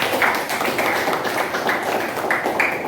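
Classroom of young pupils applauding together, a steady wash of many hands clapping with a few sharper claps standing out, close and fairly loud throughout.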